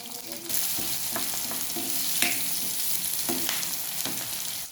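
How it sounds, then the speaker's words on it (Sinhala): Garlic and onion frying in hot coconut oil as a noodle dish is started, a steady broadband sizzle with repeated light stirring taps and scrapes, close and fairly loud, no voices. "මේ දෙක ටිකක් මේ තෙලේ බැදෙන්න දෙන්න"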